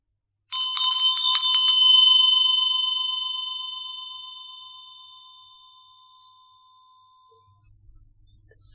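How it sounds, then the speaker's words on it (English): A meditation bell is struck once, close by, and its clear, pure tone rings alone before fading slowly into silence over several seconds. "I'm just going to ring this bell"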